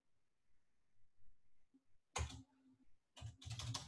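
Typing on a computer keyboard: after a near-silent stretch, two short bursts of close key clicks arrive in quick clusters, fairly faint overall, with no voices.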